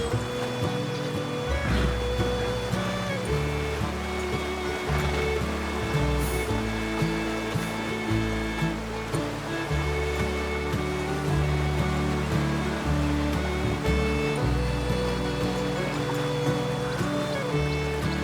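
River water in Red Dead Redemption 2 rushes and splashes steadily as a horse wades across, a continuous watery wash under sustained background music.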